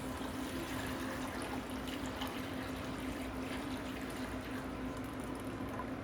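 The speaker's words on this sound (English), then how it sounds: "we're straining it into a cheesecloth, into another" Weld dye liquid, cooked about an hour, pours and trickles steadily through cheesecloth into another container, a continuous close watery wash with a low hum underneath.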